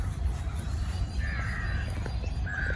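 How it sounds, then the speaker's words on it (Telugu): Crows caw in a garden in Bangalore: two hoarse, drawn-out calls, the first longer and the second shorter near the end, heard at moderate distance over a steady outdoor background hum. "ఈ పక్క కాకులు ఉన్నాయి."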